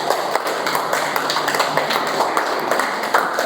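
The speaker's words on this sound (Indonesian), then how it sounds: "Tepuk tangan untuk kelompok 1." A classroom group claps for the first student group after a short drama, a steady mass of hand clapping filling the room for several seconds, no speech.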